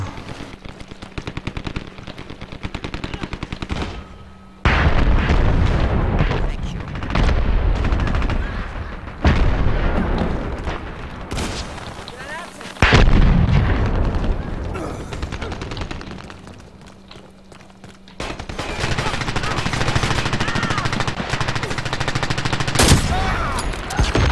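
Gunfire in the online shooter Dirty Bomb, with a player using a sniper rifle, as loud, close bursts and sharp single shots of rapid combat that keep breaking off and resuming, with faint speech in places.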